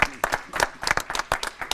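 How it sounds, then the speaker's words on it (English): A small group applauds the test crew at a 100% SAF flight event, with brief scattered hand claps in quick bursts over under two seconds, close by. "it feels like we should give you an applaud"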